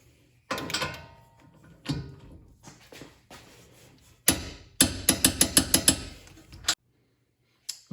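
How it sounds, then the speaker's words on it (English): A wrench torques a control arm bolt on a Ford Mustang, giving a few scattered metallic clunks and then a quick burst of close, rapid ratcheting clicks before it stops. "Now we can torque this to 76 pound-feet."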